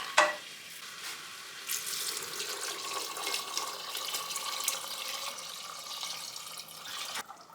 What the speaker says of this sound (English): I'm just going to fill this up half full with water.